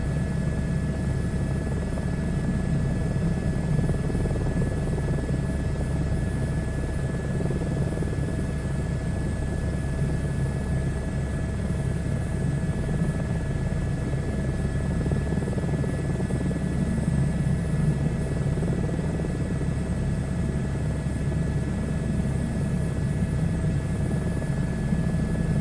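A helicopter flies a long-distance leg over Wales and western England in a flight simulator game. The rotor and engine make a loud, constant drone, a steady whir that never lets up from start to end.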